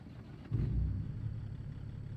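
A deep, low truck engine in the video game American Truck Simulator rumbles at idle, then swells as it picks up, holding a steady throaty drone afterward.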